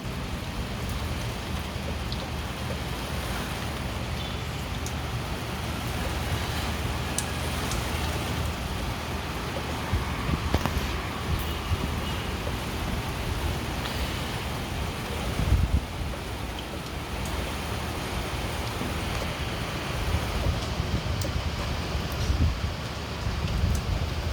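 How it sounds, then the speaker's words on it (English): Steady, dense rainfall pattering on surfaces in Manila, Philippines, a continuous wash of noise with faint traffic rumble in the background. "it's raining. So good, so satisfying. I was able to capture the rain"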